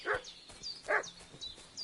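A dog in the game Kingdom Come: Deliverance 2 barks twice in short bursts with yelps and whimpering fuss between, at mid distance, over a quiet background with no speech.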